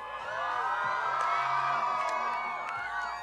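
A big crowd at a Big Air snowboard contest during the World Ski and Snowboard Festival roars with cheers, whoops and shouts. It swells quickly and stays loud and dense throughout.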